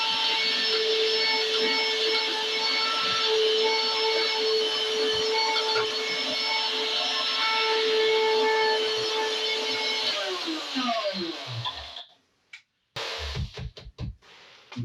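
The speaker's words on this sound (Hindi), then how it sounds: "तो हम ये अपना ग्राइंडर स्टार्ट करते हैं" An electric grinder grinds herbs into powder with a loud, steady, high-pitched whine that holds for about ten seconds, then winds down, followed by clattering handling noises.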